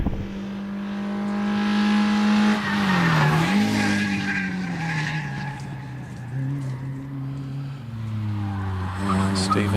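A little Citroen Saxo hillclimb car climbs the hill at a British Championship event at Harewood, its engine note rising and falling with tyre noise, heard continuously under race commentary.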